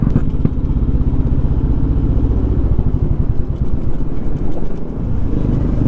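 Modified Royal Enfield Bullet motorcycle engine running, a loud, close, continuous low thumping rumble with a rapid pulsing beat and some mechanical clatter.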